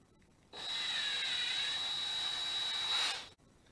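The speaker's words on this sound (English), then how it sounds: "And now all I have to do is drill a hole." A power drill boring a hole through an oak barrel stave for a bottle opener, one continuous whining drone of about two and a half seconds that starts and stops abruptly.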